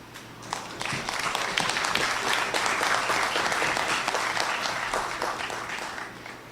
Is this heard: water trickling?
no